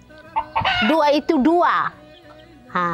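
Chickens being fed cluck and squawk loudly and close by in a busy, overlapping burst, with one drawn-out rooster-like call in the middle.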